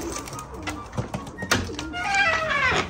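Pigeons coo inside a newly roofed backyard loft, soft repeated throaty calls mixed with brief chirps and rustling close by, while someone talks over them.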